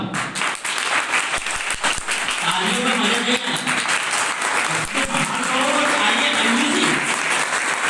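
Loud, continuous applause from an audience at an NSS activity event in Biaora, dense clapping filling the whole stretch, with crowd voices audible beneath it.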